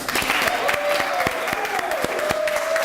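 A large audience honouring City of Savannah employees at a United Way kickoff claps loudly and continuously, a dense even wash of applause with a faint voice or cheer line threaded through it.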